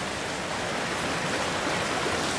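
Streams run swollen after a heavy rainstorm, giving a continuous, dense, even rush of flowing water with no pauses or voices.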